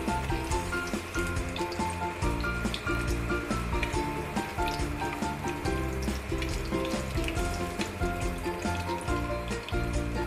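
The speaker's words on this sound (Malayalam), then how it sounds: "കാഷ്യൂനട്ട് ഗോൾഡൻ ബ്രൗൺ ആവുന്ന വരെ വറുക്കാം" Cashew nuts fry in hot ghee for a sweet laddu, giving a steady, dense sizzle and crackle that runs unbroken and close for the whole stretch, with no talking over it.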